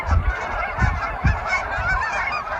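A flock of wild geese honking noisily, overlapping calls with a few louder nearby honks rising above a dense, continuous chorus.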